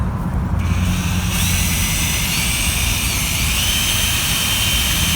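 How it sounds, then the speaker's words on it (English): A power drill mixes outdoor UV-resistant two-part epoxy after part B is poured into part A, giving a loud, steady whine and whir close by that runs without a break. "Use our drill to mix."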